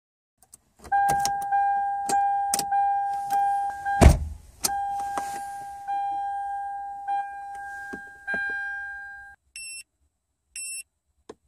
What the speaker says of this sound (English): So now we'll plug this in and we'll turn the ignition on.